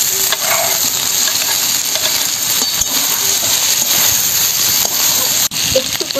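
Prawns frying with potatoes in a pan for a prawn curry, a loud continuous sizzle with clinking and stirring of the spatula close by, no talking.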